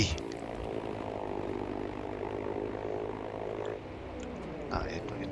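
A propeller-driven fighter plane drones in the Battlefield 5 video game, a steady engine hum sustained throughout with a brief swell near the end, with game effects around it.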